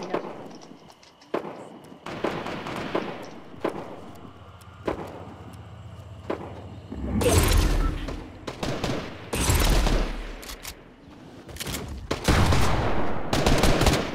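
Drum gun fire in the video game Fortnite comes in several loud rapid bursts with scattered single shots and impacts in between, some sounding nearer and heavier than others.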